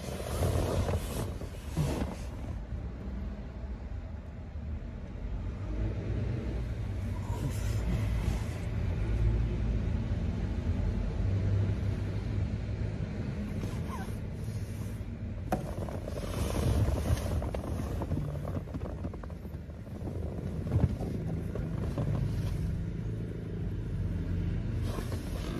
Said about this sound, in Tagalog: Ang ingay ng truck.